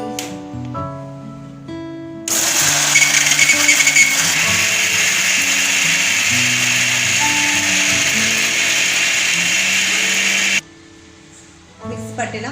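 A mixer grinder whirs loudly and steadily for about eight seconds as it grinds roasted coconut and spices. Background music runs before and after, and the motor cuts off abruptly near the end.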